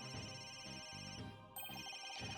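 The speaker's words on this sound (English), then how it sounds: "Where's that ringing coming from?" A telephone rings in the Ace Attorney: Dual Destinies video game, a repeating electronic ringtone with bright sustained tones over a soft musical backdrop, clear and close with a brief change partway through.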